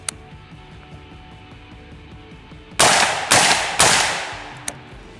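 Three loud suppressed gunshots in quick succession from an AR-15 pistol fitted with a Silencer Co. Saker 762 suppressor, each a sharp crack with a short decay, followed by a small faint pop.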